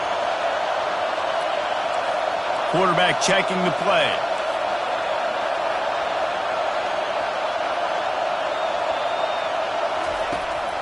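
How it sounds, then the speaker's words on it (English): Football stadium crowd roaring steadily on third down at a college game, a loud continuous wash of cheering with a commentator talking over it. "Decibels rising as the crowd gets behind this defense on 3rd down."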